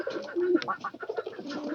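Pigeons cooing close by in a loft, a few soft throaty coos and short calls in quick succession.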